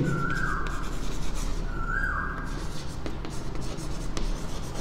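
A marker or pen writing on a board in a maths class, heard up close as scratchy strokes and squeaks over steady room noise, with two longer squeaky lines and scattered short ticks, and no one talking.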